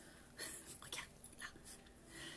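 A small dog whimpers and breathes close by in a quiet indoor room, with soft, brief whines and snuffles repeating over a couple of seconds.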